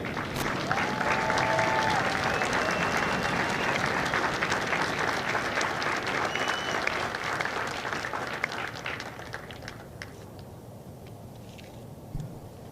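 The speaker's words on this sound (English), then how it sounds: "please join me in a round of applause for the company staff of Company K" A large crowd applauds the company staff of Company K at a Marine recruit graduation ceremony at MCRD San Diego, sustained dense clapping that carries on for about ten seconds before thinning out.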